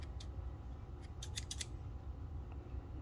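Scissors snip fly-tying material bound to a hook while shaping a baitfish-style tarpon fly: one early cut, then a rapid run of four or five crisp snips, all faint and close with no talking.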